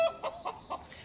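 Chickens eating half-wet homemade feed give a few short, close clucks in an uneven rhythm.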